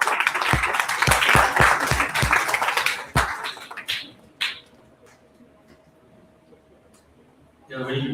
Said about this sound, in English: Please welcome sir with a huge round of applause everyone.